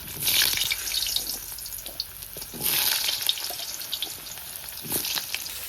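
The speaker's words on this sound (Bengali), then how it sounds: "গাজর আর আলু একসঙ্গে ভেজে তুলে নেব" Diced potato and carrot fry together in a pan of oil, a moderate crackling sizzle that swells and fades in waves, with bursts of running-water-like hiss and occasional light clicks.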